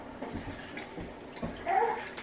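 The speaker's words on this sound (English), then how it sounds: "let's flush a whole bunch of water out of this thing" Water flushing out in a continuous gushing, splashing stream, fairly close and moderately loud, growing a bit stronger near the end, with no talk.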